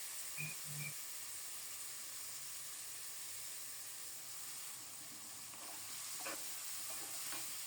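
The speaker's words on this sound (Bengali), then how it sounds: "পেঁয়াজটা বাদামি হলে মাখানো মাছ দিয়ে দেব।" Marinated tengra fish frying with browned onions in a pan, a steady close sizzle and hiss throughout with a few soft stirring knocks.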